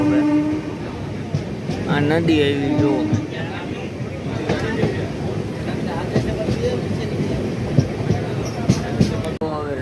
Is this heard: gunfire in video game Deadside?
no